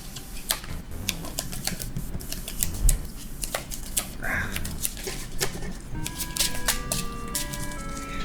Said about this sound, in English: Just shuffle from here.